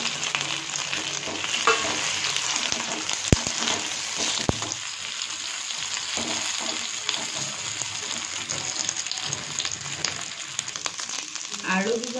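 Potatoes frying in a pan for a soybean and potato dish, a continuous near sizzle with scattered pops and a couple of sharp utensil knocks, no talking.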